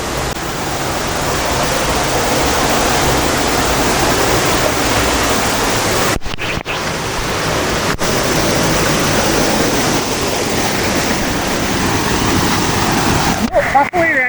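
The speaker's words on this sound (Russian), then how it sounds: "А у водопада течение сильное прям." A waterfall with a strong current roars loudly and continuously at a park in the Philippines, a dense rushing wash of water filling the whole stretch, with a few brief knocks breaking through.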